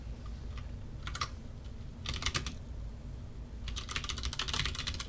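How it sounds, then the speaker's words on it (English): Someone types code on a computer keyboard during a programming lecture: quick clattering bursts of keystrokes with short pauses between, ending in a longer, denser run, close and moderately loud. "this is the code, and I'm gonna go and type it now."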